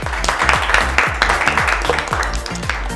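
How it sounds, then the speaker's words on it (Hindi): Children at an online Sunday school clap for a classmate, a loud, close burst of rhythmic clapping that lasts several seconds. "सुमरना के लिए भी बहुत सारी तालियां"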